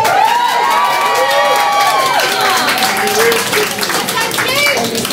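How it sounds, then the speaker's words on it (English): Audience at a Cambodian comedy show clapping and cheering loudly, a dense, sustained wash of applause mixed with whoops and excited shouts. "Appreciate the clapping and laugh"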